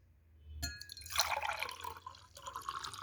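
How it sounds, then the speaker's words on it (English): Water is poured into a cup, giving a soft splashing, trickling fill that starts abruptly and continues quietly and close, with no talking. "I fill this cup with water"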